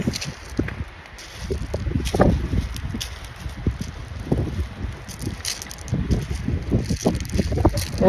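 Gusty sea wind on a beach rumbling against the microphone in uneven bursts while kites are flown, with faint rustling and thumps throughout.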